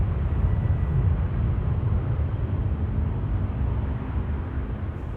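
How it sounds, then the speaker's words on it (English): A Coast Guard Dash 8 turboprop departing Amsterdam Schiphol Airport, heard as a steady, continuous low engine roar and rumble from a distance that fills the whole stretch without pauses. "most definitely hearing the sounds of the, I think it's the Dash 8 from the Coast Guard."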